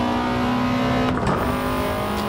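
Modified race car engines in Gran Turismo 7 on PS5, a steady droning engine roar with a sharp tonal shift midway as cars pass, loud and continuous, no talking.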